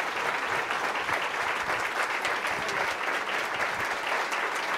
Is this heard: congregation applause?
yes